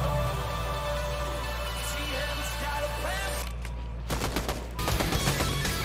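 Automatic gunfire in the video game Fortnite, a dense burst of rapid shots with heavy low-end rumble, growing sharper and more broken toward the end.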